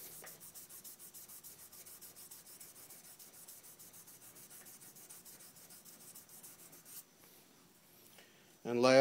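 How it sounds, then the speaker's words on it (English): An acrylic pen blank on a stopped lathe is sanded by hand, a quiet, fast rhythmic rasp of back-and-forth strokes that runs steadily, then stops before a brief voice at the end. "Stop the lathe and do some manual sanding."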